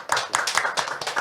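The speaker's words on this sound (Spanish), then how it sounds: "un aplauso" A short burst of applause at an event about human values in an organization, with dense, bright clapping from a group that swells and continues steadily across the moment, close and fairly loud.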